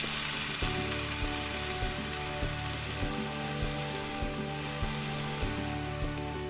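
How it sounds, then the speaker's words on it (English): Steak searing in a hot pan after being flipped, a continuous crackling sizzle with steady spattering, close and even throughout. "let the other side cook"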